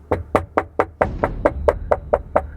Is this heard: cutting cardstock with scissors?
no